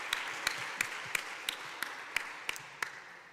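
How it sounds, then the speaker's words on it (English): Faint applause from a conference audience forms a soft, steady patter, with about nine sharper periodic clicks running through it at an even pace. "So if I could have a round of applause for them"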